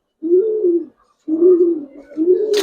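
Giribaz pigeons coo in two low, throaty rolls close by, the first brief and the second longer and wavering, followed by a short rustle at the end.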